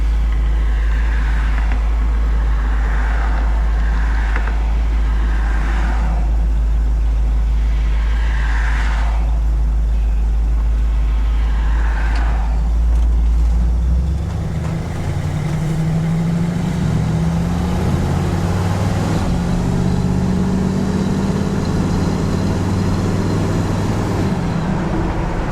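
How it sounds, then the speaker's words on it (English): A 1972 Ford shortbed truck hot rod engine idling slightly fast on the fast idle cam, a steady, close, loud low rumble that deepens and roughens partway through, with no talking. "It's still up on the fast idle cam, so it's idling just a little bit fast"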